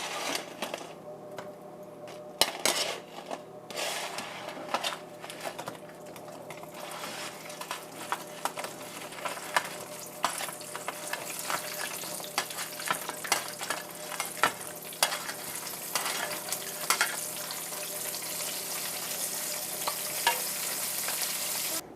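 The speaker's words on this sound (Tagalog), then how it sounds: "for maximum crispiness, double fry natin ang ating tofu" Cubes of tofu crackle and sizzle steadily in hot oil on their second fry for extra crispness, a dense continuous frying hiss with scattered sharper pops, close and fairly loud throughout, no voices.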